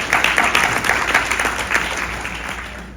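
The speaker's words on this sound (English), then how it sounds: "give them a big round of applause" Lively crowd applause at a community conference talk, many hands clapping close and loud at first, then gradually fading over a few seconds.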